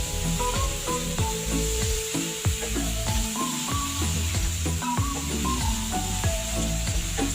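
Chopped tomatoes sauté in a pan for a drumstick masala, a dense, continuous sizzle with rubbing spatula strokes, loud and close, running beneath a layer of tonal background music.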